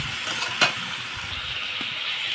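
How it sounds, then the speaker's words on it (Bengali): Goat meat and fried potatoes sizzle in a pan with salt added, a steady loud frying hiss with a brief scrape of stirring early on. "এখন আমি লবণ দিয়ে ভেজে দেবো।"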